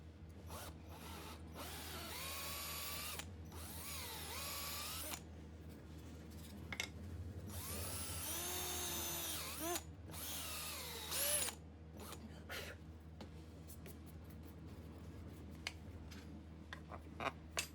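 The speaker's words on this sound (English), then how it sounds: "Yeah, let's drill a hole." A power drill bores a bolt hole for mounting custom car control arms, sounding in several loud whining bursts that rise and fall with pauses between them, followed by quieter clicks and small mechanical ticks.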